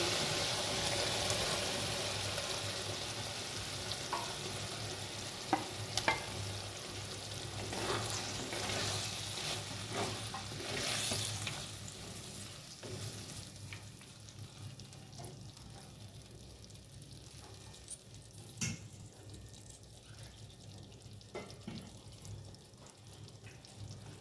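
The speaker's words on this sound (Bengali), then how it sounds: "এবার ভাজা আলুগুলো দেবো" Fried potatoes are tipped into a pan of mustard and poppy seed paste and stirred, a steady sizzle running throughout with scraping stirs and a few sharp clatters, the frying easing toward the end.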